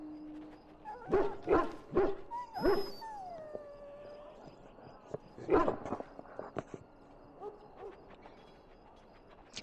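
A dog in the Dragon Age: Origins game, in the Kocari Wilds, whimpering and letting out several loud barks and howl-like yelps close by, followed by softer whines, with a voice speaking in the background.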